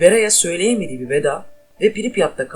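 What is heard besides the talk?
No distinct noise like a dog, phone or traffic.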